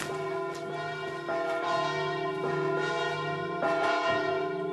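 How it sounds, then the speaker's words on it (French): Church bells of a town cathedral ring out in repeated resonant strikes, each tone swelling and fading into the next at a moderate distance, with no voices present. "Ça, c'est les cloches de la cathédrale de la ville"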